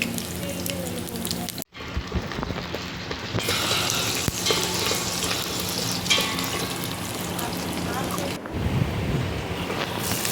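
Whole spices frying in hot oil in a pan for chicken pulao, giving a steady, loud sizzle with a brief drop partway through and stirring noises, close by.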